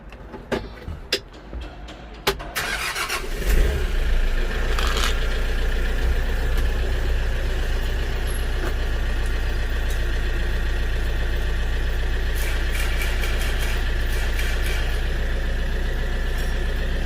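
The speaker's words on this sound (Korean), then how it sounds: "시동을 걸어서" Daedong RX570 tractor with low power and an engine warning light cranks over with a few sharp clicks, then its diesel engine catches and settles into a steady, close, loud idle that runs alone.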